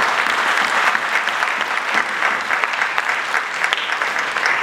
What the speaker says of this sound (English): A round of applause for the crew members.